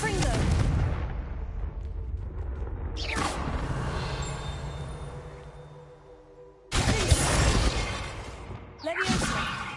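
A Confringo blasting spell fires in the Hogwarts Legacy video game, giving sharp booming bursts and shattering crackles that repeat a few times, with a voice speaking briefly between blasts.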